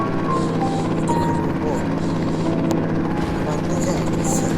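Helicopter in the Indian Bike Driving 3D video game, a steady loud rotor drone with engine buzz running throughout, close and continuous with no talking over it.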